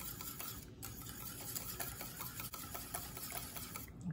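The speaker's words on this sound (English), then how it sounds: "I'm gonna use hand whisk to make sure they're mixed well." A hand whisk beats egg tart filling in a bowl with rapid, steady rhythmic strokes, faint but continuous and up close.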